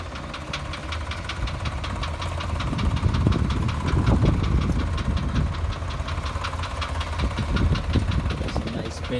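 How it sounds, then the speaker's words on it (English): A Chevrolet C30 two-wheel-drive truck with a 454 V8 and dual exhaust idles with a steady, rapid ticking and a deep rumbling pulse, close by with a slight swell in the middle. "This has a 454 V8 engine in it."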